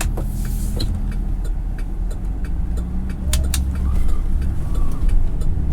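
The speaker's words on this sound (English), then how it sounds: "There is still just so much traffic, people walking around all over here." Busy urban street traffic, steady low rumble of passing vehicles with faint birdsong and a pigeon cooing over the top, continuous and moderately loud throughout.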